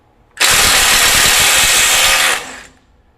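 Milwaukee 2953 Gen 4 M18 FUEL impact driver straining under heavy load, one loud, close burst of rapid hammering clatter that starts abruptly, holds for about two seconds, then cuts off and fades.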